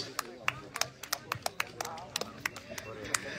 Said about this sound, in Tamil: So மீண்டும் ஒரு நல்ல கைத்தட்டலோட let's welcome ஜெகதீஷ்.